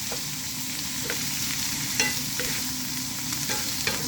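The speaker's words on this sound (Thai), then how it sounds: "ใส่ พริก แกงเข้าไปผัดให้หอมค่ะ" Thai curry paste sizzles steadily in a hot wok while a utensil scrapes and stirs with occasional light clinks; no talking.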